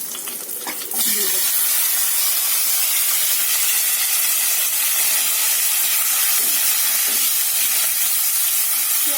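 Chopped onion with spices, dried red chilli paste, sugar and salt fries in a hot pan, a loud, steady, hissing sizzle that starts abruptly and holds throughout, close up with faint stirring and no voices.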